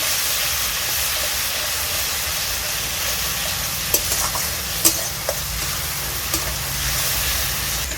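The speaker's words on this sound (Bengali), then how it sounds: "মশলাটাকে আমি বেশ ভালো করে কষিয়ে নিয়েছি" Spice paste with sugar, salt and turmeric sizzles steadily in a pan for a lentil-fritter sour dish, a continuous hiss broken by a few sharp clicks of the spatula scraping the pan.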